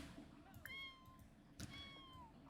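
A kitten in The Sims video game gives two drawn-out meows about a second apart, faint and in-game, over soft background sound.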